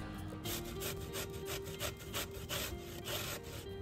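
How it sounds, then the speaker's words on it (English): Zucchini is rubbed rapidly across the small side of a grater for gluten-free zucchini bread, a close rhythmic rasping scrape repeating in quick strokes for several seconds. "So go ahead and just grate away"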